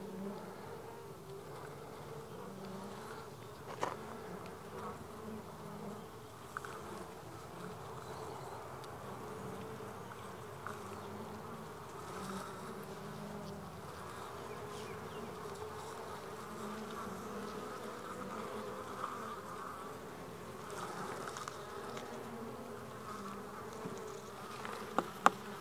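Honey bees buzz steadily and close by, a continuous droning hum of many agitated insects with a few faint knocks, as bees are gathered in a cup for a mite count.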